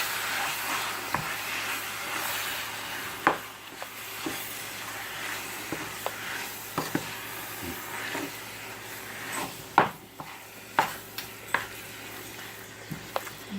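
Meat for lasagna being stirred in a pot, with scattered scraping clicks and thumps over a low steady hiss, moderately close and fairly quiet, no talking.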